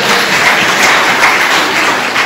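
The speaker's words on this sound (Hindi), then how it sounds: "परमेश्वर को जोर से ताली बजाइए।" A church congregation at a Palm Sunday service claps loudly and continuously, a dense, steady wash of applause with no pauses.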